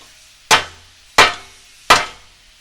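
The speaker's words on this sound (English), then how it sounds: "And you can do that with just a hammer." A hammer strikes a metal piece on a Toyota Tacoma build three times, folding it in, each blow a sharp loud clang with a short ringing decay, evenly spaced and close by.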